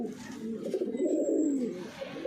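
Show pigeons at a pigeon fancier's loft in Uttar Pradesh give a steady, throaty cooing that swells and rolls continuously, close and moderately loud, with no talking.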